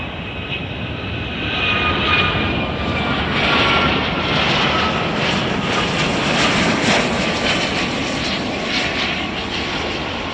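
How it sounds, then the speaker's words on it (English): United Boeing 757-300 jet airliner at Chicago O'Hare roaring loud and steady as it passes, with a broad whooshing jet noise that swells slightly and holds. "Let's catch United Flight 617 from Denver."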